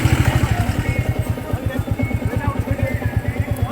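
A motorcycle engine chugs close by with a fast, regular low-pitched thump, steady and fairly loud for the whole stretch, on a pilgrimage route to a hill temple.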